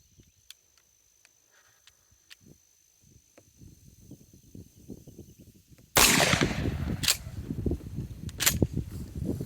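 A 12-gauge shotgun fires Winchester Super-X buckshot at a 10-yard target. One sharp, loud blast cracks out after several seconds of faint rustling and is followed by a few quicker clacks and bangs.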